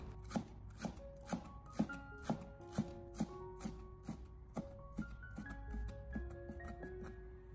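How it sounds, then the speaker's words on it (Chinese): A knife chops scallions into small pieces on a cutting board, with about a dozen sharp, evenly spaced taps close by at first, then a softer, quicker run of cuts, with no talking. "紧接着我们再准备少许的小葱，清洗干净以后把它改刀切成小葱花"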